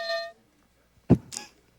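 Game-show buzzer pressed by a player, a short bright electronic tone followed after a pause by two quick sharp sounds.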